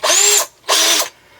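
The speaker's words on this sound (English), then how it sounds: "I drilled all the way through." A power drill bores a hole through a Toei 650b randonneur bicycle fender in two loud, high whining bursts separated by a short pause, close and alone.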